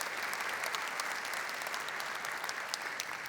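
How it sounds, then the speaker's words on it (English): A crowd applauds at a talk, a dense even patter of clapping heard at some distance and fairly quiet, carrying steadily to the end. "yes, that deserves applause"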